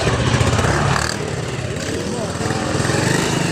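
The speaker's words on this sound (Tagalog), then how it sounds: "Parada na yung motor." A parked motorcycle's engine runs close by with a loud, rough, buzzing idle, the throttle easing slightly partway through, while people talk over it.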